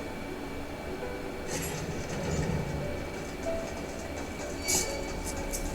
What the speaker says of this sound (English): I like the clacking noise of us running on these metal things